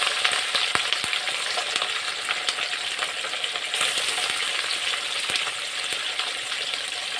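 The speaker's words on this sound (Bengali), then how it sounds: "মাছগুলোকে ভালো করে ভেজে দেব" Pieces of mrigal fish fry in hot oil in a home kitchen with a continuous close-up sizzle, broken now and then by sharp clinks and stirring noises.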